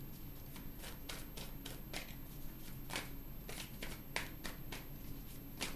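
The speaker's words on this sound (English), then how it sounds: "And one more shuffle." Tarot cards are shuffled close up, giving soft rapid riffling and flicking bursts in an irregular rhythm at low volume with no voices.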